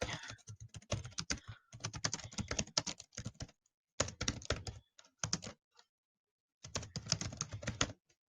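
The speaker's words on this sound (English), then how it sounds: "we're just going to type something." Typing on a computer keyboard while adding a job posting, with rapid bursts of close, crisp key clicks separated by short pauses, alone without talk.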